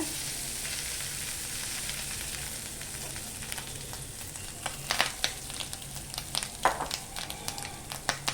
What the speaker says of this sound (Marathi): ओलं खोबरं आहे ना गॅस मंद ठेवायची आहे आणि सतत असं ना पाच मिनटं परतून घ्यायचं आहे